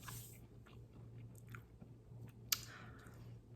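Biting into and chewing an egg and chouriço fritter up close, with a few soft crunchy bites and one sharp crisp snap, heard alone with no talking.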